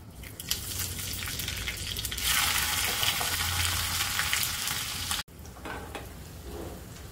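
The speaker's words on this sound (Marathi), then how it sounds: "मोहरी, मिरची, हिंगची फोडणी द्यायची" Mustard seeds, green chilli, asafoetida and cumin crackle and sizzle loudly in hot oil for a tempering, a dense continuous frying hiss that swells midway, with a short cut near the end.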